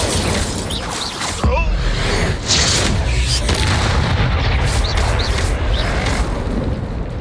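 A fire-spell blast from the video game Hogwarts Legacy, a loud booming burst that rolls into sustained crackling roar with further impacts, dense game combat noise throughout without speech.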